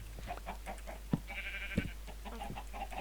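Minecraft chickens cluck in short, repeated bursts over a steady low hum, with a couple of sharp clicks and a brief high tone in between.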